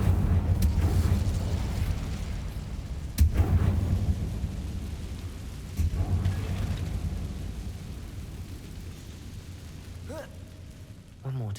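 Incendio fire spell cast in Hogwarts Legacy, heard as a few low booming bursts over a steady rumbling game background, with talk alongside.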